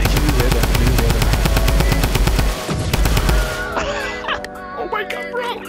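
Rapid automatic gunfire rattles close and loud in Fortnite for the first few seconds, then cuts out and leaves quieter game sounds and voices.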